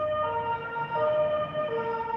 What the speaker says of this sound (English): There's always a siren going past.